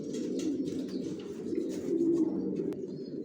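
Racing-type pigeons coo in a steady, continuous low murmur, close and fairly loud, with no talking over them.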